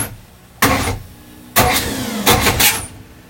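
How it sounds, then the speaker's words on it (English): A V8 MerCruiser Chevy marine engine is bumped over by its starter in three short bursts: a brief crank, a longer grinding turn, then a final stuttering burst, each close and loud with quiet gaps between. "And you're going to bump the engine over."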